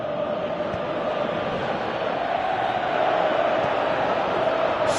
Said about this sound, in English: Crowd calling for him to shoot.